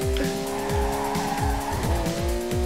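Car drifting in the racing video game Ridge Racer: Unbounded, with a steady engine drone and repeated tire squeals and skids at close range, running continuously with no talk.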